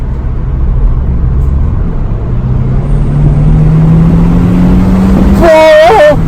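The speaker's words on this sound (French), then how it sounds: "Oh, cette accélération" Renault Megane 4 GT with Renault Sport chassis accelerating hard, a steadily rising engine drone building under road noise, ending in a brief burst of higher-pitched whine near the end.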